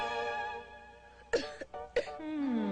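Two sharp coughs cut through a steady sustained musical tone, the second following about half a second after the first.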